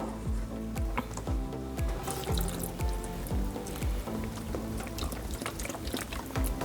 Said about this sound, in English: add probably about a cup of beef stock into this.